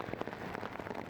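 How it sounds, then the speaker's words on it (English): Hail and heavy rain pound a tent, a dense, continuous pattering roar of drops striking the fabric close overhead, with no voices. "It started hailing and raining pretty bad."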